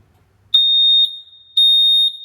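A smoke alarm under test gives two loud, piercing electronic beeps about a second apart, each held steady for roughly half a second, close by with no talk.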